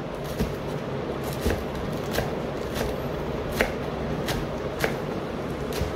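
Spinach and radish being chopped fine for bhaji, a knife striking a board in regular close, crisp taps roughly every second against a steady rustling background.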